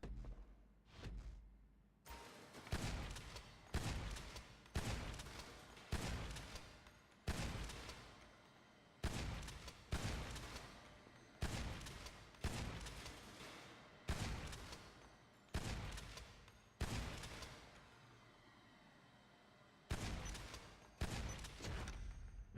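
Sharp video game gunshots at a shooting range in GTA V ring out one after another in a steady, evenly spaced series, each crack followed by a short echoing tail.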